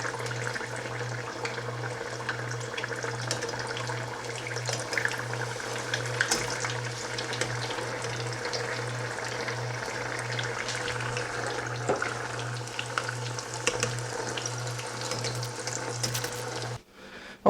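Shrimp egg rolls deep fry in oil heated to 350 degrees, a steady, dense bubbling hiss that runs on evenly for a long stretch before cutting off abruptly.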